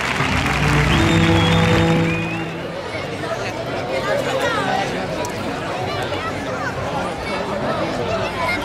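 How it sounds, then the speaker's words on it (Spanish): A crowd at a bullfight in Cariñena, Zaragoza, breaks into applause and cheers over a loud, tonal shout at the start, settling into a sustained bed of clapping and crowd murmur. "Arriba el fuerte el aplauso para él."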